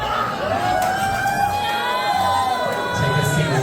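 Live drag competition audience on stage erupting in sustained loud shouting and jeering at a contestant, a dense crowd roar with whoops and drawn-out yells throughout.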